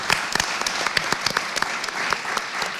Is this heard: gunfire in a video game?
no